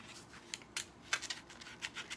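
A worn X-Acto knife blade cutting through a pink and gold heart Valentine gift bag sign from Dollar Tree, giving a series of short, faint scratchy strokes in uneven rhythm, close up with no talking.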